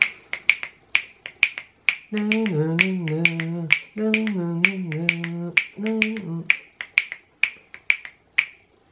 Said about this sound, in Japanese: このダンスの中に入ったつもりでこの指パッチンを